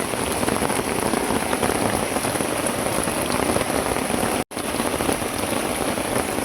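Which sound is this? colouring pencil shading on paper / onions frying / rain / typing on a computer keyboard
rain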